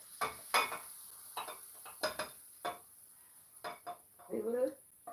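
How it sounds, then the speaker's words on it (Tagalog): Cooked food is scooped from a pan into a bowl during home cooking, making a run of clinks and scrapes of metal utensils on cookware with brief sizzling and a voice briefly heard. "I will transfer to the bowl"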